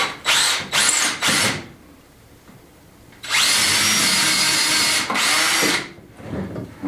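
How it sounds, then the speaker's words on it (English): A power drill driving screws into reclaimed timber while building a chunky farmhouse kitchen: a few short whirring bursts, then a long steady high-pitched run and one more burst, loud and close. "fire a couple of screws in, hopefully that should pull it up"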